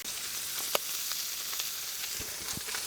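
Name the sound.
onions frying on a griddle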